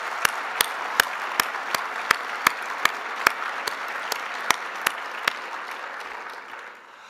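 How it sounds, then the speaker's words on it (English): An audience at an NLM and NIH data-science event applauds steadily, with sharp, evenly spaced claps standing out over the broad wash of hands before it thins out at the end. "So please join me in a round of applause for all of them."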